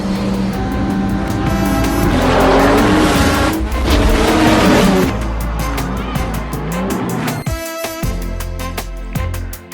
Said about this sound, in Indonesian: menghadapi pembalap jalanan elit, Dominic Toretto dan dua kontestan lainnya, dalam sebuah laga balap akbar di tengah malam